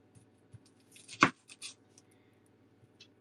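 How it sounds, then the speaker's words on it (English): Kitchen knife cutting the ends off shallots on a board; one crisp, sharp chop stands out near the middle, followed by a few lighter taps and rustles, close and quiet against a faint hum. "So again, chop the end off."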